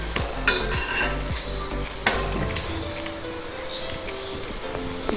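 Food cooking in a pan over a medium flame, a steady soft sizzle with repeated utensil scrapes and taps against the pan, close and without talk.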